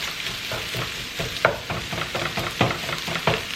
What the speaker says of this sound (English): And then just fry up my rice.